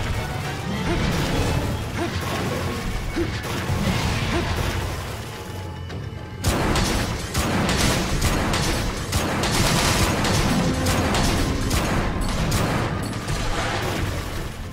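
Bowgun fire in the video game Monster Hunter 3 Ultimate comes as dense, repeated cracking shots and impact crashes over busy game sound. The volleys are loud and nearly continuous, with a short lull midway.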